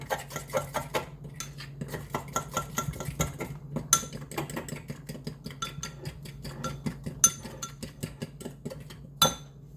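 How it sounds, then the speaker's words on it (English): A utensil stirs barbecue sauce into a spicy pork roast with a quick, regular run of close scraping and clinking strokes against the cookware, plus a few sharper knocks. "Add the barbecue sauce. Give it a stir."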